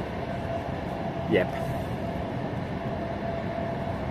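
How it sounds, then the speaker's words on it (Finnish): Carriage wheels of the Ukko-Pekka steam train rumble and clatter steadily on the rails in a continuous low drone, with a brief squeal and a short spoken word over it. "Tässä on sitä rautateen matkustamisen tunnelmaa. Kiskojen kolke, äänimaailma, valomaailma."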